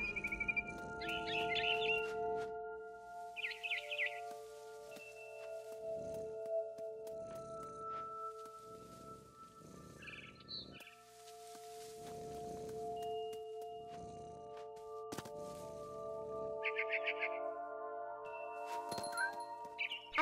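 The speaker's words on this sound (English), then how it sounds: "Then I heard chirping outside my window. It was a barn swallow going back to her nest." A barn swallow in the video game What Remains of Edith Finch gives faint, short bursts of chirping at scattered moments, set among soft rustling, thuds and a low sustained ambient tone.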